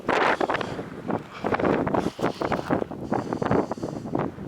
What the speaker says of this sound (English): it's gonna be real windy